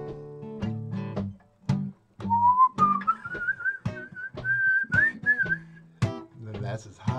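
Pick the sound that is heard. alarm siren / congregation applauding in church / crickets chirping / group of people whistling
group of people whistling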